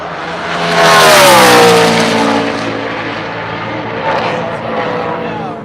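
A NASCAR Xfinity race car, the number 38 RSS Racing entry, roars around Charlotte Motor Speedway during practice and qualifying, its loud engine note sweeping down in pitch as it passes and fades, with a steady rumble trailing behind.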